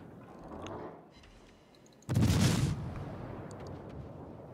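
A single heavy gunshot goes off in a video game, a loud booming report over a low background rumble that fades into a lingering tail.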